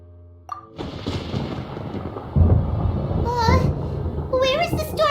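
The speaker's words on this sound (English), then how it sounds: "Paimon hears thunder!" Thunder in the video game Genshin Impact, a deep rolling rumble that swells and lingers while a character's high childlike voice speaks over it.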